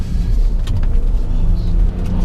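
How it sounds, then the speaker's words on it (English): Power windows on a Maserati Levante SUV slide closed while the car is driving, a short whirring motor buried under road and cabin noise. "Let me just pull these windows back up"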